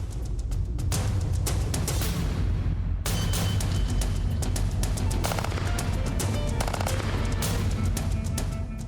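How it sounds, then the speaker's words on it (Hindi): An FN P90 submachine gun fires in long, dense automatic bursts, loud and continuous throughout with sharp cracks layered over a heavy rumble. "उसे महाविनाशक मशीन गन कहा जाता है। नाम है FN-P90 सब मशीन गन।"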